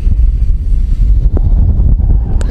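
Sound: strengthening wind during Heliway 913 drone flight

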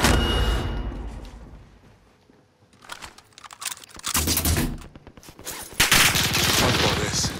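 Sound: gunfire in a video game

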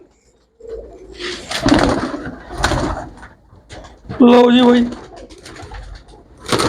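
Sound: pigeons cooing as they are released

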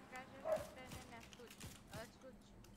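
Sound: dogs barking

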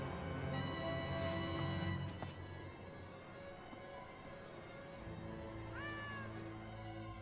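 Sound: cat meowing in the video game Gravity Rush Remastered

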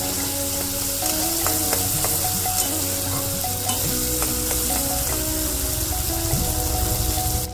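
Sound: spice masala being sautéed in pan

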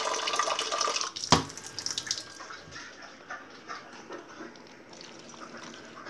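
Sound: water poured into a pan while cooking

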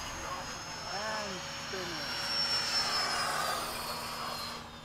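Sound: FMS F/A-18 RC model jet flying

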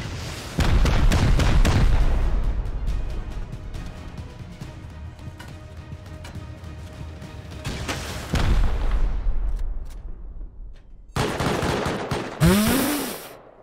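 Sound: rocket launcher firing and explosions in a video game

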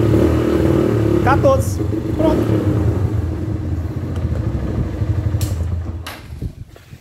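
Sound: motorcycle engine revving

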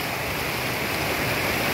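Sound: Kapili river flood water flowing

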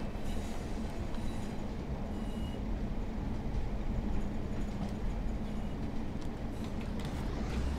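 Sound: Class 142 Pacer train wheel flange squeal, Train Sim World 4 video game

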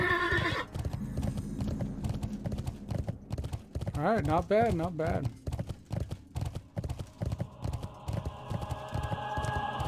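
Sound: horse galloping hooves in World of Warcraft video game

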